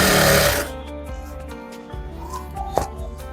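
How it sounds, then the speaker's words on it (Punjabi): Sewing machine stitching a salwar: a loud burst of rapid whirring stitching for the first half second, then stops, leaving quiet handling knocks and a light clatter. "ਤੁਸੀਂ ਰੱਖ ਕੇ ਪੂਰੇ ਤੋਂ ਸਲਾਈ ਸਟਾਰਟ ਕਰ ਦੇਣੀ ਹੈ"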